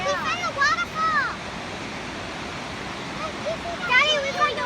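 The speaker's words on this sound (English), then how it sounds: "Dad, we found a waterfall." Hurricane Falls at Tallulah Gorge State Park roars as a steady broadband rush of falling water, constant and fairly loud, while children's voices call out excitedly over it at the start and end.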